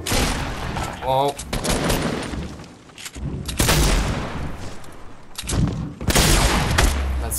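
Bursts of rapid gunfire crackle in a Fortnite Battle Royale match, loud and close, with a heavy boom partway through and a brief voice exclamation over the shooting.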